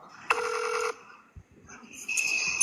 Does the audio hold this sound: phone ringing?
yes